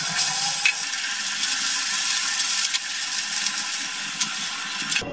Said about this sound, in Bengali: একইভাবে বাকি মাছগুলো ভেজে নিচ্ছি